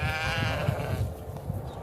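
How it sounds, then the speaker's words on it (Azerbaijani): A sheep bleats close by, a wavering drawn-out cry lasting about a second, followed by quieter outdoor ambience in open pasture by the Kur River. "Bir tərəfdə qoyunlar qaçır"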